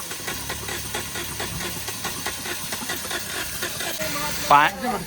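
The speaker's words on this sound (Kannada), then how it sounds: "ಫೈನಲಿ ಗಾಡಿ ಚಾಲೂ ಆತ್ರಿ" A broken-down car's engine, stalled in a forest, runs with a rough rhythmic chugging pulse, fairly quiet and steady, before a brief louder burst near the end.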